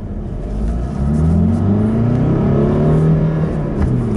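A Honda CR-V 1.6 i-DTEC diesel revs up from inside the cabin, a loud, steady engine drone whose pitch climbs smoothly toward high revs over several seconds with no talking.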